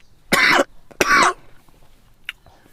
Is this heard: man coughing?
yes